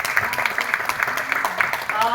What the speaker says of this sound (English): A round of applause for your dad.